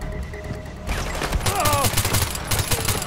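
Gunfire from a silenced MP5 in the video game Far Cry 4, a loud burst of muffled rapid shots after a quieter start, with a faint voice in the background.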